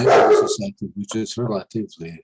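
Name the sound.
dog barking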